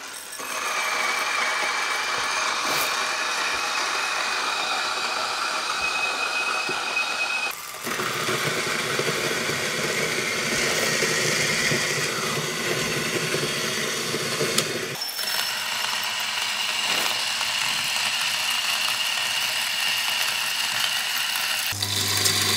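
High-RPM coffee grinder running empty on its highest speed setting, a loud, continuous close whir with a ratcheting mechanical edge, its tone shifting abruptly in a few places; no talking.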